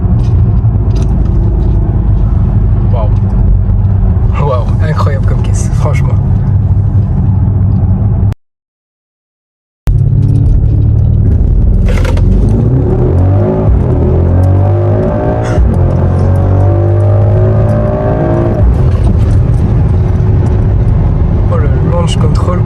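A Mercedes GLS 63 AMG accelerating hard under launch control, a loud close engine roar and rumble heard from inside the car beneath excited talking, with a brief dropout partway through.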